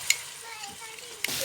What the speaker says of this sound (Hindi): अब इसमें हम घी डालकर इसको भूनते हैं